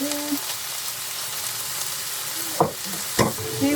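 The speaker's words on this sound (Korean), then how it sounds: "새우가 약간 익을 때까지 먼저 볶을게요" Shrimp seasoned with a sprinkle of spice stir-fry in a pan for a cream cheese rosé pasta, giving a steady close sizzle with a couple of sharp stirring scrapes near the end.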